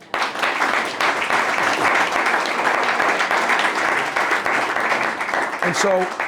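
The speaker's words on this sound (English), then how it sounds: "you can clap on that" An audience claps together after a speaker's line at a Jewish advocacy event, a dense and sustained round of applause that holds steady, with a brief voice near the end.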